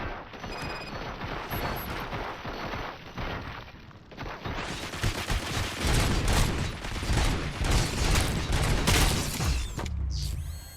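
Gunfire in Robocop: Rogue City amid dense mechanical clatter, a continuous loud barrage of rapid shots and metallic noise that intensifies midway, then cuts off near the end.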